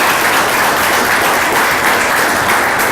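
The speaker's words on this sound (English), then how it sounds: "let's give the director, Sean Baumgardner, and all of his staff here at this National Cemetery a big round of applause" An audience at a national cemetery veterans event applauds loudly and steadily, dense clapping filling the whole stretch without pause.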